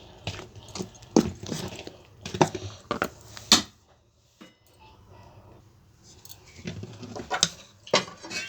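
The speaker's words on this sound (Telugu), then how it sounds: "దోశలు పోసే ముందు ఇట్లా ఒకసారి బాగా కలుపుకుంటే దోశలు బాగుంటాయి." A spoon scrapes and taps against a bowl while dosa batter is stirred, in irregular bursts of clinking with a quiet pause in the middle.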